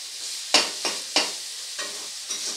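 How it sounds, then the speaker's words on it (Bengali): A spatula mashes tomato masala frying in oil for dhaba-style egg tadka: five sharp, rhythmic slaps, each trailing into a light sizzle, close and clear. "খুন্তি দিয়ে এরকম একটু পিটিয়ে নিচ্ছি যাতে টমেটোগুলো আরও ভালোভাবে মিশে যায়"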